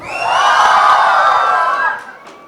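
College students hoot and cheer together in a loud, sustained crowd roar that holds for about two seconds, then drops away to scattered voices.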